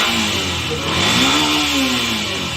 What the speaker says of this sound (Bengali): বাইক যাচ্ছে